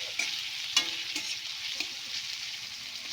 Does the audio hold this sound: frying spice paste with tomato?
yes